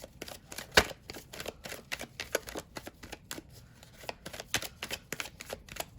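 A deck of tarot cards is shuffled up close, with rapid, uneven flicks and riffles of the card stock in quick bursts and one sharper snap near the start.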